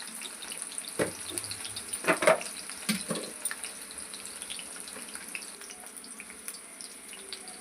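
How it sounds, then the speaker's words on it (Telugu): Onions fry in a pan, giving a faint, steady sizzle with a few sharp clinks and scrapes from stirring early on, then a quiet hiss that continues on its own. "ఆనియన్ గోల్డెన్ బ్రౌన్ వచ్చేదాకా వేయించుకోవాలి"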